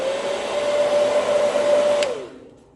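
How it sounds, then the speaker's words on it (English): A blow dryer aimed at freshly mascaraed eyelashes runs with a steady whirring blast and a constant tonal hum, loud and close, then winds down and fades away at the end. "I like to use a blow dryer"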